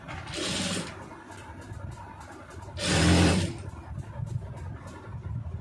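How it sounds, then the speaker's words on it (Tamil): A sewing machine runs a straight stitch along a round neckline in two short bursts a couple of seconds apart, each a brief whir, with a faint mechanical hum in between. "நீங்கள் நேராக அப்படியே தையல் ஓட்டிடுங்க"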